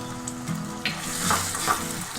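Chopped tomato and crushed garlic frying in hot oil for a fish head curry with cabbage give off a steady close sizzle, broken by a few spatula stirs and louder crackles, with no voices.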